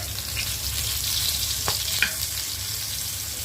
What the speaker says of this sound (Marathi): असं तेलामध्ये टाकते. एका साईडला फ्राय झालेलं आहे. मी आता याला पलटी मारते.